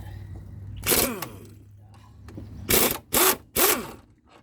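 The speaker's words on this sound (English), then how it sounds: "I'm going to use my impact to take off these bolts." An impact wrench loosens brake caliper bolts on a Ford Freestyle during a front brake pad job: one loud rattling burst, a quiet pause, then three quick bursts in a row, close by in a quiet garage.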